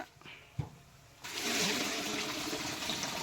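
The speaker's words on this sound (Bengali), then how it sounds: "এখনই ট্যাঙ্কের মধ্যে মাল ঢালা হচ্ছে।" Sugar syrup is poured into the tank of a batasa-making machine: after a quiet start and a brief knock, a steady rushing, splashing pour begins and continues to the end.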